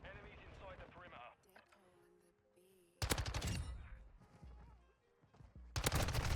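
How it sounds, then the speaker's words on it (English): Rapid automatic gunfire from a submachine gun in the Modern Warfare 2 video game, loud bursts at the start and again in the middle and at the end, with quieter gaps and a voice talking between them. "I'm shooting at random people."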